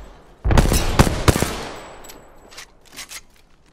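Sharp bursts of gunfire from a shooter video game, several loud close shots in quick succession followed by a decaying tail and a few fainter, more distant shots.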